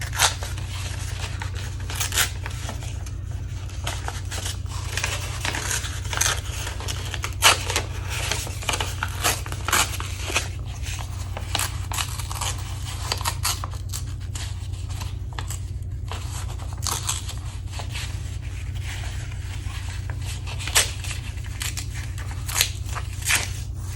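Gel print paper is torn apart by hand for a collage, a dense run of close, crackly rips and crinkles continuing irregularly over a steady low hum.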